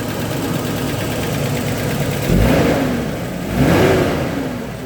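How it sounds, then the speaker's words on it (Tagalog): A car engine runs and warms up while being checked for a hard-starting complaint, idling steadily with two brief revs that rise and fall, loud and close with no talk. "So habang umaandar ngayon, papainitin natin yung engine dahil yun nga ang reklamo."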